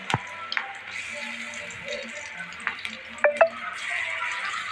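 Onion pakoda batter deep-fries in hot boiling oil, a soft steady sizzle with scattered crackles and a few sharp ticks and taps of a utensil against the pan, quiet and close.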